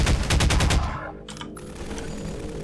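Rapid bursts of automatic gunfire in the video game Half-Life 2, loud and close, give way to scattered shots and a softer clatter of combat. No one speaks.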